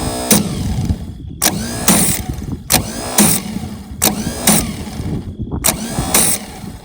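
A 1977 Pontiac Grand Prix engine cranks over repeatedly without catching, a loud rhythmic starter churn broken into about a dozen short bursts with brief gaps, close by and with no talking.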